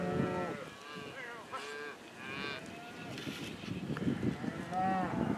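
Cattle on a drive arriving at the end of the trail moo repeatedly, several overlapping low and drawn-out calls from nearby animals, with steady outdoor herd noise throughout and a few higher bawls near the end.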